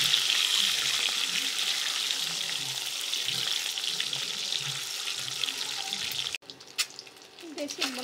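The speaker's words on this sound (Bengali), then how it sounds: "এখন আলু ভাজি করব" Potato slices frying in a pan for a quick everyday potato bhaji with egg, a steady close sizzle and crackle that cuts off abruptly near the end, followed by a few faint clinks.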